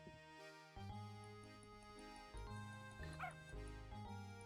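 A cartoonish dog from the Professor Layton and the Curious Village video game gives a few short yipping barks over soft looping game music, with brief bursts standing out near the middle.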